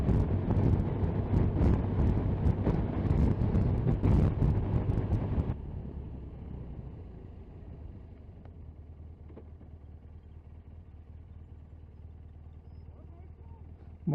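Blustery wind buffets the microphone outdoors during a motorcycle ride, loud rumbling gusts for about five seconds that drop abruptly to a faint, steady background hiss.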